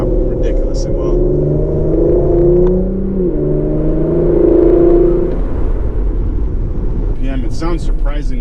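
A 2020 Porsche Macan GTS fitted with particulate filters and a PDK transmission drones steadily from inside the cabin, its engine note rising and falling as it accelerates, with a brief burst of other sound near the end.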